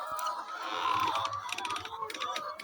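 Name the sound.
chickens and fowl in a farm coop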